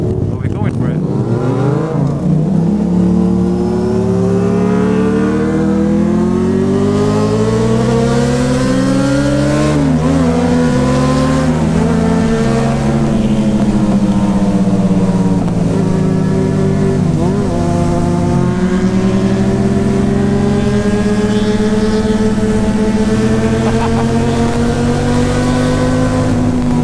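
A diesel Mercedes A160 hatchback accelerating hard, its engine note climbing through gears in repeated rising sweeps, loud and close throughout, with people talking over it.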